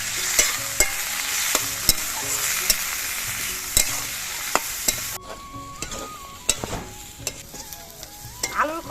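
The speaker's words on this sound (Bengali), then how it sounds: "এবার আলুর খোসাগুলো আমি ভেজে নেব।" Potato peels frying in a pan with salt and turmeric give a steady close sizzle, cut by regular sharp clinks of a spoon stirring against the pan, with the hiss easing partway through; no voices.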